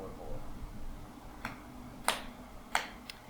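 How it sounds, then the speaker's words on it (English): Three or four sharp hand claps, spaced unevenly and growing crisper, ring out against a quiet room tone after a faint murmur of talk at the start, used as sync marks for editing. "so you can see from these claps"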